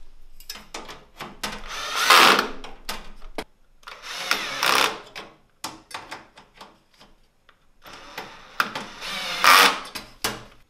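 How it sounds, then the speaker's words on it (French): Cordless drill set to its lowest setting driving screws while assembling a Parkside PTK 2000 table saw, heard as three separate whirring bursts of a few seconds each, close and fairly loud, with short pauses between them. "Donc la perceuse, bien entendu, je l'ai mis au niveau le plus bas."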